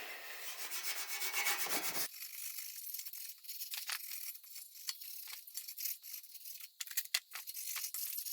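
A Scotch-Brite pad rubs briskly over a degreased rear brake pivot on a CRF50 motorcycle frame, beginning with a dense hissing scrub that breaks into lighter, irregular scratchy strokes, close and quiet, with no voices.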